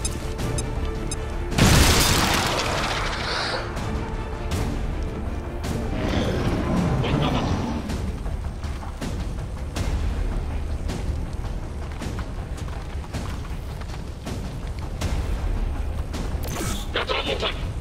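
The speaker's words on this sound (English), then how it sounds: "Grenade!" Grenade blast in XCOM 2 gameplay, a sudden loud boom with a crashing burst near the start, followed by rumbling debris and scattered game sounds, with someone talking faintly.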